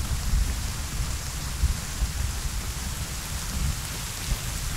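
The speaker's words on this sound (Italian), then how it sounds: "Statisticamente quanto piove in Afghanistan? Quando giochiamo noi sempre." Steady rain falls in the Arma 3 Liberation game on the Lythium map, a dense continuous hiss with low rumbling thunder-like undertones and occasional soft thumps, constant and fairly loud, with no speech.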